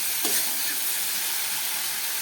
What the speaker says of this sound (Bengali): এবারে মশলা আর সবজিগুলোকে আমি কষিয়ে নেব।